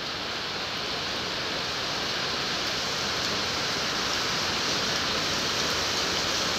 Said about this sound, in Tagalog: Ulan guys, ulan sa Singapore.